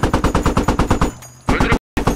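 Rapid automatic gunfire in the video game Squad, in steady bursts, loud and close, with a brief pause and a short gap of silence before firing resumes.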